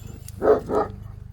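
A dog gives two quick, close barks in a row, moderately loud, with a low hum underneath.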